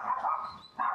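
A neighbour's dog barks outdoors while chasing a cat, two quick bursts of yapping close together, moderately near and loud, with no talk over it.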